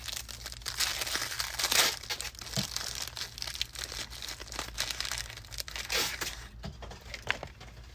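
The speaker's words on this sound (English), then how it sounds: "So it is an actual ice cream sandwich, and you can open it up." A freeze-dried Neapolitan ice cream sandwich package is opened, giving close, crinkly plastic wrapper rustling and tearing in uneven bursts throughout, with no talking.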